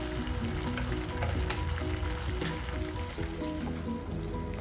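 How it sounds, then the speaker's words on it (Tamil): Chilli powder and coriander powder sauteing in oil in a pan for a brinjal masala gravy, a steady close sizzle and crackle with light stirring scrapes, continuous and unbroken throughout. "ஒரு 2 நிமிஷம் நல்லா வதங்கட்டும்."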